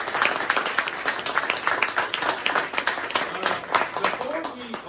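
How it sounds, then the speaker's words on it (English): At an elementary school ceremony, families and staff clap for young students, a loud, busy spread of hands that keeps going throughout with voices and cheers mixed in. "Families and staff, can y'all do me another favor and clap it up for these young men?"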